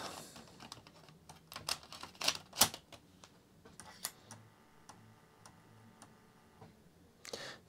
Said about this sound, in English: It does sound a little noisy, but maybe that's just the drive itself.